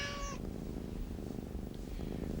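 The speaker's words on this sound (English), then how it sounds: "time to put Kitty on a diet" Cat in a TV commercial giving a short meow at the start, followed by a low, steady purr-like rumble close by; no speech.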